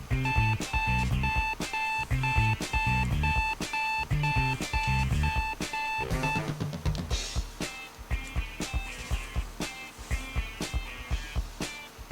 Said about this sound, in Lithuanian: Po to antro kurso rytai nuskamba žadintuvas.